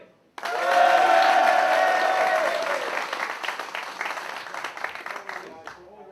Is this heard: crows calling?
no